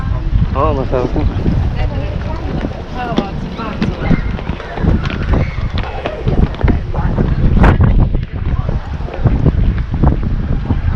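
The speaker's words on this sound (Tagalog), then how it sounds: "Mahangin. Ang hangin." Strong wind roars across a boat on a trip off Mallorca, loud gusty microphone buffeting with water splashing beneath, while people talk intermittently over it.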